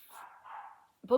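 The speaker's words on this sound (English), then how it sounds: "sorry if you hear my dogs in the background" Pet dogs bark in the background at home, giving a couple of short muffled barks with a sharper yip near the end.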